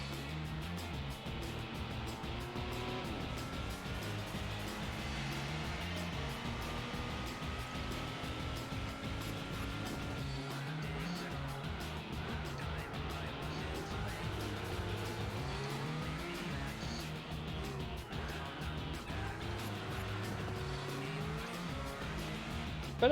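Race cars in Gran Turismo 4, including a Renault 5 Turbo, drive with a constant loud engine drone and shifting revs, running continuously throughout.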